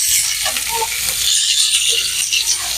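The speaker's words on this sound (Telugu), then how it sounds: "మనం ఇలా అయితే కొంచెం అయితే నూనె వేసుకొని మనం డీప్ ఫ్రై కాకుండా చాలా ఫ్రై చేసుకున్నాం." Fish shallow-fries in a small amount of oil rather than being deep-fried, and the pan gives off a loud, steady, close sizzle and crackle throughout, with no talking.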